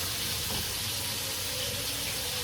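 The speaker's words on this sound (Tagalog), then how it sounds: "Lagyan natin ng tubig." Water runs from a kitchen tap into a metal cooking pot in a small, cluttered sink, a steady loud broadband gush lasting throughout with no talk.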